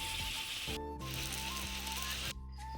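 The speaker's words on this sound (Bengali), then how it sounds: "এরপর পরপর সবগুলো ভেজে নেব" Hot oil sizzles and crackles steadily as green pea kachoris fry, with a faint tonal hum in the background and no talking.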